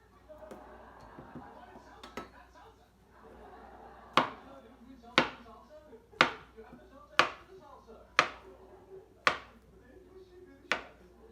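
A knife chops steadily through bananas onto a cutting board, about eight crisp evenly spaced knocks, close by, after some quiet handling.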